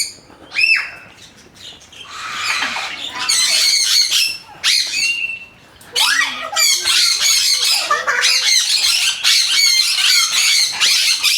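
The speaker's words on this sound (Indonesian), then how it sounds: "Mana burung beonya sini?" A myna bird squawking loudly and close, with harsh repeated calls in bursts separated by short pauses, then a near-continuous stretch of raspy shrieks and chatter.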